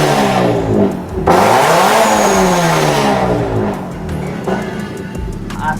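A Toyota GT 86 fitted with a new aftermarket exhaust revs hard, engine pitch climbing and falling through several loud, close sweeps with a raspy, aggressive tone and no talking.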